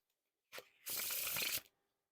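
A deck of Midnight Noc playing cards is spread into a wide fan: a short papery flick, then about a second of steady, dense ruffling close by, with no voices.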